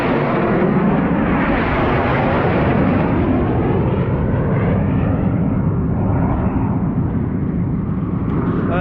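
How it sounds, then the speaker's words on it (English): Jet fighters roar low overhead above Lake Bala, a loud, broad, continuous rumble with a sweeping pitch that fills the whole stretch without letup. "look at this, here come the jet fighters"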